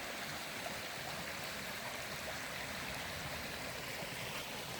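A brook flowing through the Northern Maine woods on a hot day, a steady, even rush of running water throughout with no pauses or other sounds.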